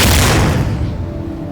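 A rocket interstage failing in a SimpleRockets 2 flight, a loud, close, rumbling boom that bursts out at full force and then trails off into a rough, sustained roar, with no voices.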